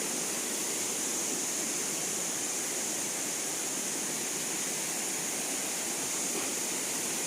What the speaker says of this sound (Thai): ปกติจะมีน้ำตกลงมา แต่ เดือนนี้เหลือนิดเดียวนะครับ ไหลลงมา